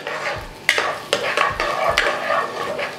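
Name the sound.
coconut pieces frying in ghee in a kadai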